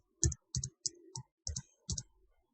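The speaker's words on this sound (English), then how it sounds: "You'll have to type in your admin password here." An admin password being entered on a computer keyboard: six crisp, distinct key clicks in a loose rhythm, close and clear against silence.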